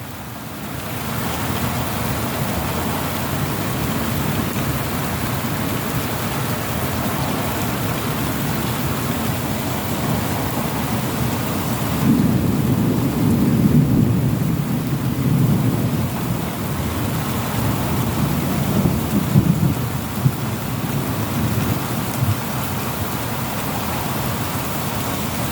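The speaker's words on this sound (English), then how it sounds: "The first winter rain in Israel." A thunderstorm brings the first winter rain in Israel: a constant, loud rain hiss with deep thunder rolls swelling midway and again later, no voices.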